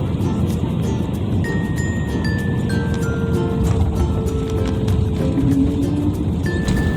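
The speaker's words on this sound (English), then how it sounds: "now it's time for the plane to touch down to the runway" Cebu Pacific airliner touching down on the runway at Manila, heard from inside the cabin as a loud continuous roar with rumbling and scattered rattles and clinks, engine tones shifting as it slows.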